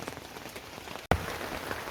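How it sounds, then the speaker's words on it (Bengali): Rain pours down steadily while water drips through a storm-torn paper cover above a room of a house, a close, dense patter that drops out for a split second before resuming. "পানি পড়তিছে দেখতে পাচ্ছেন মাসাল্লাহ রহমতের বৃষ্টি আমরা পেলাম"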